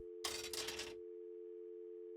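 A phone booth dial tone inside a video game, a steady hum carrying alone for about two seconds after a brief burst of rustling handling noise at the start.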